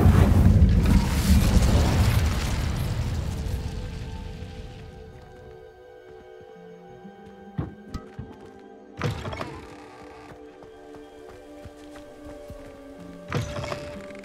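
An Incendio fire spell is cast in the Hogwarts Legacy video game, a loud whooshing burst that rolls and fades over several seconds, followed by a few quieter thuds and sharp flares against a faint ambient hum.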